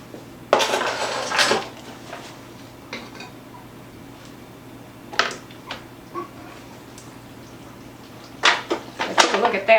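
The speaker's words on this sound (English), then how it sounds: "now I'm going to pour it into my prepared pan" Seafood mac and cheese is poured and scraped from a pot into a prepared baking pan, with scattered clinks and clattering scrapes of a utensil against cookware in short bursts between quiet gaps.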